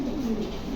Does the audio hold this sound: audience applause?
no